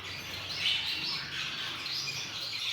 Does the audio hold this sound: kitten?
no